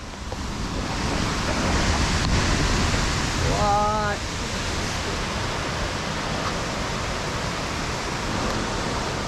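A steady, dense rushing roar of falling water, constant throughout, with a brief faint voice-like sound partway through.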